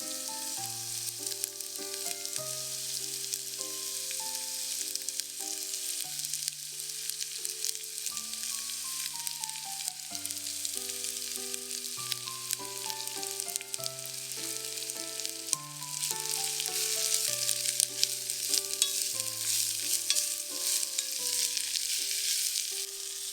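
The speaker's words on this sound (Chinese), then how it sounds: "油热后，加入红葱、洋葱、西洋芹和胡萝卜，翻炒3到5分钟。" Shallots, onion, celery and carrot sizzle steadily in hot oil as they are stir-fried for a French-style pumpkin soup, a soft continuous hiss that is largely buried under louder background music with a melodic line.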